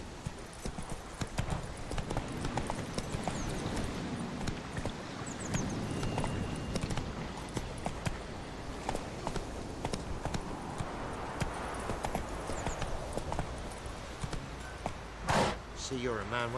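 In The Witcher 3, the horse Roach trots along with a steady, rhythmic clip-clop of hooves, close and continuous, under occasional speech.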